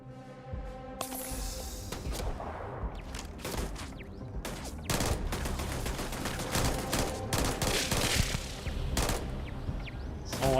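Loud, dense gunfire in Starfield, rapid automatic bursts and single sharp shots cracking over a constant rumbling game background, with clattering impacts throughout and no speech.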